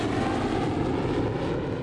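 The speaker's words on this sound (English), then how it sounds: "On the runway ahead of them is a Bombardier CRJ ready for departure." Steady broadband jet engine roar from a Bombardier CRJ regional jet on the runway ahead, ready for departure, continuous and fairly loud with no talk.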